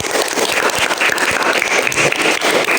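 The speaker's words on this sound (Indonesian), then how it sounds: "Tepuk tangan untuk kelompok tikus." A classroom of fifth-graders claps for a student group during a lesson, a brief, loud, continuous patter of many hands.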